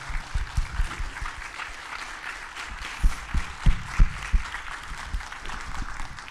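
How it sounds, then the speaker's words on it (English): Audience applause for panelists at a fraternity-hosted event on domestic violence, a broad clapping wash with a few louder nearby claps and thumps standing out, no talking. "let's give our panelists a round of applause,"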